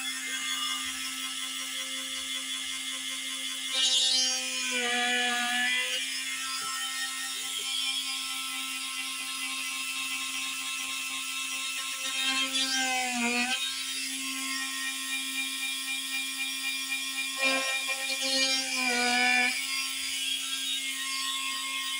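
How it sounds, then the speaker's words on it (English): A power drill whines under a constant motor hum. Its pitch dips in three short bursts as the bit bites into a hard wall surface. "So let's go ahead and drill."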